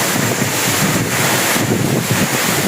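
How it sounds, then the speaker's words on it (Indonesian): Strong wind buffets the microphone in a loud, constant roar beside a waterfall, with a rushing wash of falling water underneath. "Ini anginnya kenceng banget guys."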